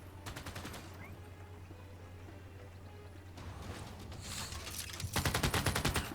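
Rapid bursts of gunfire from units shooting at a tank in Civilization 6, several crackling volleys at the start, middle and end over a steady low hum, moderately loud and close.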